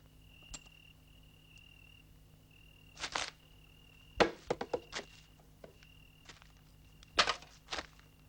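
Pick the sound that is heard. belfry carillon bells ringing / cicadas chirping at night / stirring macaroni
cicadas chirping at night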